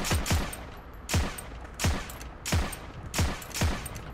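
Six sharp single-fire gunshots from an M1/M2 carbine in the shooter game Heroes and Generals, loud and close, spaced unevenly about half a second to a second apart.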